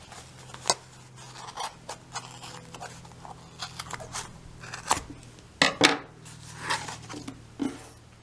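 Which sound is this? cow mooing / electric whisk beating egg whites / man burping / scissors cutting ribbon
scissors cutting ribbon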